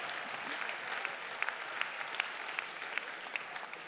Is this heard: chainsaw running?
no